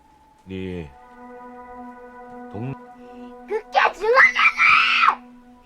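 Hyojin, a young girl in the 2016 film The Wailing, screams angrily: a short cry, then a brief yelp, then a string of loud, shrill, strained shrieks over a low steady hum.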